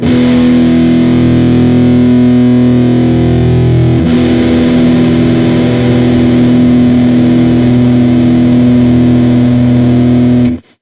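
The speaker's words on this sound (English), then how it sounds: "So that sound that is not part of the distortion of the amp is what the clipping is doing." A loud, heavily clipped guitar amp tone, harsh and saturated, sustains continuously for about ten seconds, with a slight shift in texture partway through before cutting off.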